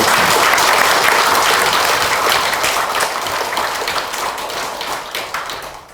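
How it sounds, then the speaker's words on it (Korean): Congregation at a Won Buddhist temple dedication ceremony in Jindo gives dense, steady applause of thanks, loud and continuous and tapering slightly toward the end, with no talking. "교당 신축의 꿈을 꾸게 해주신 김원과 교도님께도 감사의 박수를 드립니다"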